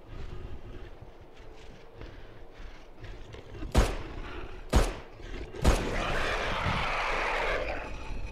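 Three sharp, loud gunshots from the video game Fobia – St. Dinfna Hotel crack in slow succession over a low background rumble, the last followed by a sustained noisy wash.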